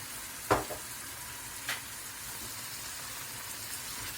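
A sofrito base seasoned with paprika and turmeric sizzles steadily in a pan, a soft continuous hiss broken by two brief stirring scrapes, close and fairly quiet with no talk.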